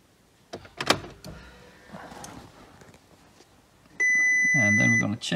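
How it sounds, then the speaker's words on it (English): Ignition cycled on a VW Golf mk5 with a Micronas instrument cluster: a few faint clicks and bumps, then a loud steady electronic chime or buzzing tone starting partway through and holding to the end. "we're going to cycle the ignition one time"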